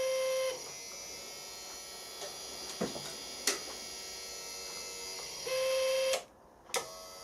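A milling machine quill power feed runs with a quiet steady electric whine and hum, broken by a few light clicks and ticks, a brief louder tone near the end, and a sudden drop to near silence.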